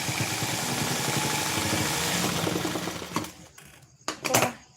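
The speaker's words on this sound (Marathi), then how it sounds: "आता जे आपण कपडा उसळला होता त्याला मी शिलाई मारून घेते" A sewing machine stitches thick cloth with a steady, fast mechanical whir that stops partway through, followed by a few sharp clicks and handling knocks.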